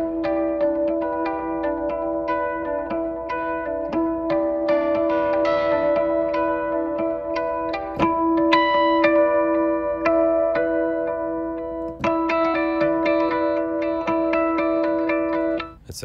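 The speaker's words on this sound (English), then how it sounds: "These are harmonic pulses." Harmonic pulses from the Heavyocity Scoring Guitars sample library sound as bright, bell-like guitar harmonics repeating in a steady rhythmic pattern, with delay and reverb and a change in the pattern about halfway through.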